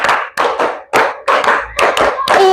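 Sharp hand claps in a classroom clapping game, loud and close, arriving in bursts of counted claps with brief gaps between groups and no talking.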